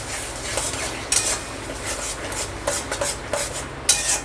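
Spiced chicken masala with sour yogurt being stirred and fried in a pan, a metal spoon scraping and clinking against the pan in irregular strokes, close and moderately quiet, no talking.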